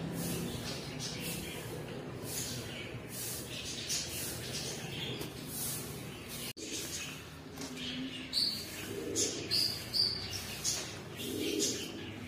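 A baby black sparrow that has left its nest gives a run of thin, high chirps, near and intermittent, with faint rustling and handling noise around them.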